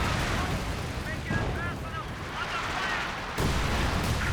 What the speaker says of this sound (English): Flame mortar coming in here.